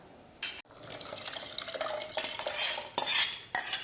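Cooked lentils splash into boiling Udupi rasam in a pot, followed by a metal spoon stirring with scraping clinks and liquid sloshing in short, uneven bursts, close and fairly quiet.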